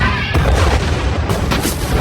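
A fuel drum explodes after welding sparks land on it at a desert crash site in a survival film, giving a loud, close burst of heavy booms with rumbling, crackling follow-through over about two seconds.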